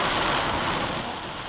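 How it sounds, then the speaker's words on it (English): Heavy rain pours steadily in Kalutara, Sri Lanka, a dense, continuous roar of drops hitting surfaces and flooded roads, loud and close with no voices. "Suddenly, a heavy rain comes again, turning roads into streams,"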